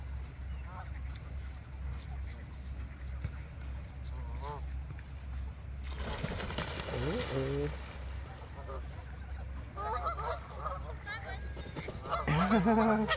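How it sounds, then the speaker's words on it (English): Geese honk repeatedly in bursts among ducks at Lake Tomahawk over a low, steady background hum, the calls growing louder and more frequent toward the end. "the geese are coming"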